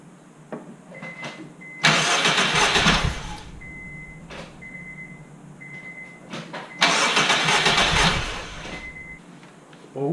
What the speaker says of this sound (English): go back into the driver's seat and turn it over